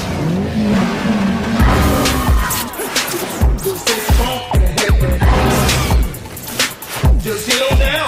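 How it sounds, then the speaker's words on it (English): A car engine starting and revving hard, loud and close, with repeated surging revs, mechanical clatter and tire-like squeals rising and falling across several seconds. "Shall I turn the engine on?"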